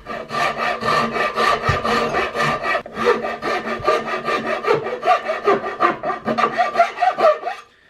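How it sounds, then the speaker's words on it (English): A half round rasp scrapes over wood while shaping the cheek rest of a Hawken rifle gun stock, making rhythmic, rough back-and-forth strokes up close with only brief pauses. "I can do this too with a half round rasp, if that's what you have."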